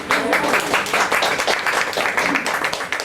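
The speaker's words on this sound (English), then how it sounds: "Guys, a round of applause again." A crowd applauds a dance team at a stage performance, steady dense clapping filling the whole stretch, loud and continuous with no voices standing out.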